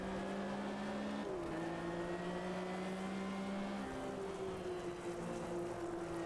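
A 1977 Porsche 911 RSR race car engine drones steadily in a racing video game, its tone shifting through gear changes and shifts in pitch, loud and close throughout.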